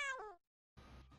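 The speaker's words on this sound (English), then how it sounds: "Cat." A cat in the video game Fuga: Melodies of Steel gives a short, close, clear meow, followed by a brief pause and then a burst of game sound effects.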